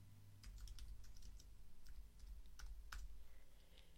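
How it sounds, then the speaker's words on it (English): Typing on a computer keyboard, a quick irregular run of soft key clicks close up and fairly quiet, with no voices. "I'm going to press the Return or the Enter key on the keyboard to add another line of type"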